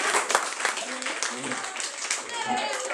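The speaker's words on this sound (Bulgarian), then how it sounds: "Браво, аплодисменти на приятели!" Scattered clapping from a small group of children and adults, loose and uneven, with talking and kids' voices running over it.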